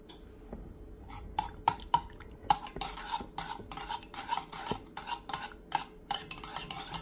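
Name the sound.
stirring sugar into coffee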